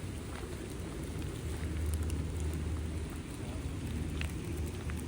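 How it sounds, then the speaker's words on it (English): Steady rain falls outdoors near old former slave cabins, a continuous broadband hiss with low rumbling underneath, fairly constant and moderately loud throughout with no voices. "The rain has picked up quite a bit"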